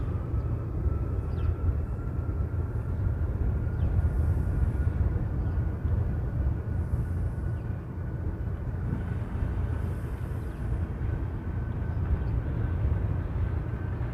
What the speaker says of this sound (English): this is the Hawaiian heading off to LAX